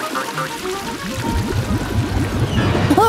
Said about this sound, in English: Flushing now!